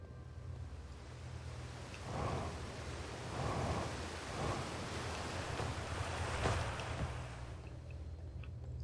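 Rushing water in the video game Outer Wilds surges in a steady wash, with several heavier swells breaking through a constant windy roar at low level.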